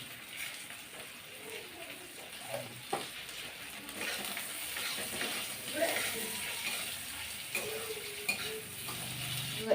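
Panch phoron spices sizzling in hot oil in a home kitchen, with onions and bay leaf frying: a steady close hiss with light scraping and stirring clicks throughout, no talk.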